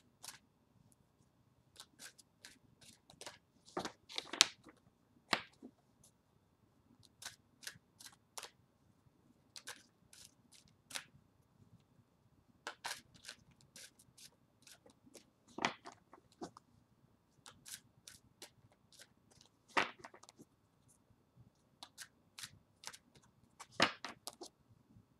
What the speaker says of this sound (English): I'm going to take a minute and shuffle.